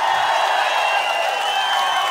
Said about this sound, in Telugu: గట్టిగా చప్పట్లు కొట్టి మేము ఆశీర్వదిస్తాం